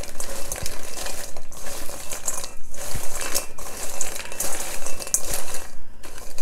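Bare hands toss herb croutons, bread cubes slicked with oil, around a bowl, giving a busy run of soft rustles, scrapes and small clicks that keep repeating up close with no talking.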